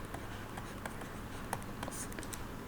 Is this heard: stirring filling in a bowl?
no